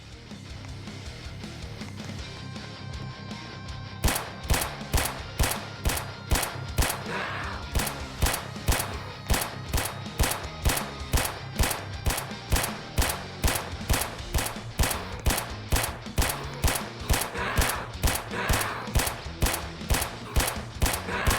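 Rapid, evenly spaced gunshots from a shotgun in the Roblox video game ring out loud and close in a steady repeating rhythm over a background of game music.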